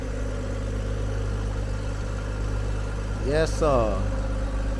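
The AWD car called the Black Panther sits idling with a steady low engine hum close by, while someone speaks briefly and a short whistling or squealing sweep rises near the end.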